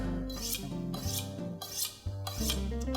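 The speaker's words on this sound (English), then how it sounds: "you always got to sharpen that knife when you start" A kitchen knife is drawn along a honing steel in several quick, rasping strokes, each a bright scrape followed by a short pause. The sound is close and clear, with no talking.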